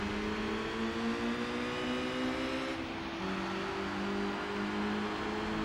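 A sporty MG car in Gran Turismo 4 sliding into a bit of oversteer, its engine whining at a steady high pitch that dips briefly midway and then climbs again, fairly quiet and continuous.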